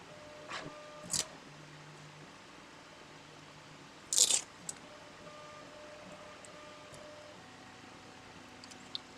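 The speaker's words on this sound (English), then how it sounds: "So let's take off the double-sided backing." Backing being peeled off double-sided tape during a mod installation, heard as a few short crackling rips, one longer and louder tear in the middle, close and quiet against a faint background hiss.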